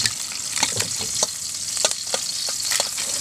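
Sisig fries loudly in a hot pan, a constant close crackling sizzle with scattered sharp pops and stirring scrapes, no voices over it.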